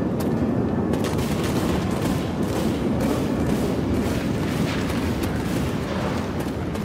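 Shotgun blasts boom in rapid succession during a zombie fight in Left 4 Dead 2, merging into a loud, continuous barrage of gunfire with no pause.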